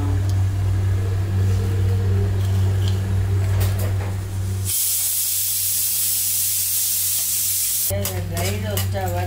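Coriander, fenugreek, cumin, chana dal and pepper, with coconut, dry roasting in a pan: continuous crackling sizzle and stirring under a steady low hum, with a brief bright hissing surge midway.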